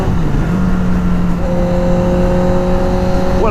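A motorcycle engine revs and climbs through the gears up to road speed, a loud steady drone with rising tones and a shift near the end.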